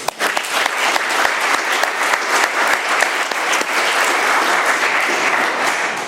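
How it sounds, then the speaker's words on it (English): Loud, sustained applause from the audience at an AA meeting for a speaker, a close, steady roar of many hands clapping throughout. "Let's have another round of applause for Julie."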